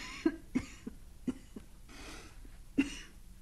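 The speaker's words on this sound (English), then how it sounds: "No, just a cough." A woman's dry coughing fit in a radio drama: about five sharp, close coughs in quick irregular succession over a few seconds, with short breaths between them.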